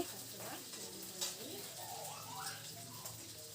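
Okra fries in a pan with a soft, continuous sizzle and occasional stirring scrapes, faint and close.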